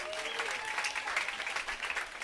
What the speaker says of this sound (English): Give the city a big round of applause.